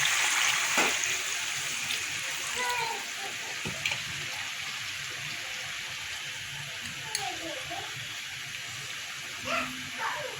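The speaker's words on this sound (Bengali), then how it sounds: "এবার এই যে বাটিতে গরম জল আছে গরম জলটা দিয়ে দেবো" Hot water poured into a pan of potatoes and meat curry gives a steady watery hiss and splash throughout, with faint clinks and brief sizzling bursts, heard close and alone.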